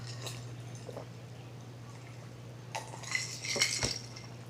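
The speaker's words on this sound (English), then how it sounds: "hear that ice. I like that ice in my juice." Ice cubes clink against a glass of juice in short bright rattles near the end, close and fairly faint over a steady low electrical hum.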